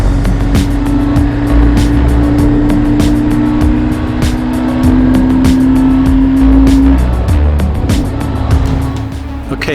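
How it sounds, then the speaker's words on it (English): BMW R1150R roadster motorcycle riding along an autumn road in Idaho, a loud, close, steady engine drone with wind rush, holding an even pitch and dropping slightly near the end. "kick back to the music and sound of my motorcycle"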